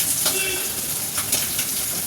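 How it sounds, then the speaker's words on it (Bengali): Nigella seeds crackle and sizzle in hot oil in a pan, a steady bright frying hiss with a couple of sharper pops, loud and close with no talk. "কালো জিরে ফোড়ন দেবো"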